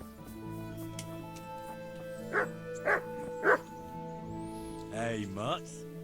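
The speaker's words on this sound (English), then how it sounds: "Let's see if I can find this dog." A dog in the medieval role-playing game Kingdom Come: Deliverance gives three sharp barks in a row, then a couple of whiny yips, over a sustained musical drone from the game.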